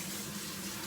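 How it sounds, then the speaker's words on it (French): A kitchen faucet runs in a steady, even spray, rinsing grease and dust off a range hood filter held under the stream at close range. "Avec comme la fonction bouchette là, du robinet."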